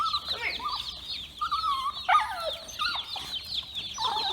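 Chickens cluck and chirp in a brooder, a busy flock of overlapping calls in short bursts that rise and fall, fairly close, with no talking.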